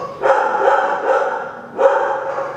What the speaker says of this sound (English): Would it be a StellaLuna podcast if the dogs weren't barking at the neighbors?